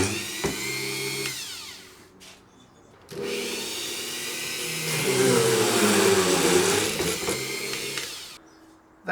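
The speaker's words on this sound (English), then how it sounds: "I'm just positioning the drill before I turn it on" A power drill whines at high speed, stopping briefly, then running again with a strained, grinding tone as it bores holes into a wooden guitar neck before cutting off.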